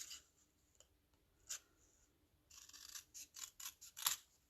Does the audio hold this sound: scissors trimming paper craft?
yes